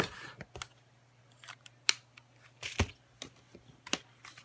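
Scissors snip paper while making a DIY box envelope, producing a handful of quiet, close, sharp cutting clicks spaced irregularly over a faint low hum.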